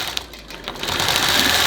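A longarm quilting machine stitches a heart quilt, its needle chattering in a fast, even mechanical rhythm that starts after a brief lull and runs loud and close.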